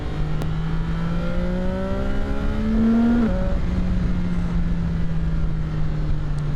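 CFMOTO 675-SRR motorcycle engine revving hard at around 5000–6000 rpm, a loud, steady, close-up drone whose pitch climbs over a few seconds, drops abruptly, then holds a steady, slightly falling tone.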